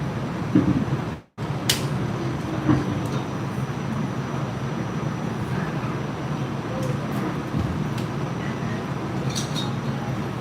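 A New York City subway ride on the 2 and 5 train in Brooklyn gives a continuous rumbling car noise with a brief dropout and occasional clanks, steady and enclosed.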